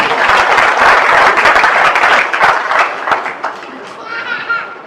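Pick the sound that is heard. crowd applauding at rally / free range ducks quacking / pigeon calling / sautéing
crowd applauding at rally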